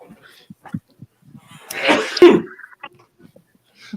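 A single loud sneeze bursts out close to the microphone during a live fishing stream, set between quiet, scattered talk and small noises before and after.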